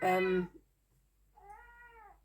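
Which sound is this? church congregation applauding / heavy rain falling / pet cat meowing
pet cat meowing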